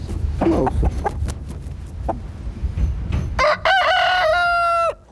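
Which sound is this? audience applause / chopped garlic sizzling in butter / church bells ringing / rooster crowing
rooster crowing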